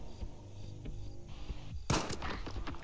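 Pistol shots fired in the shooter STALKER 2, several sharp reports at uneven intervals, the last one much louder and closer, over faint background game ambience.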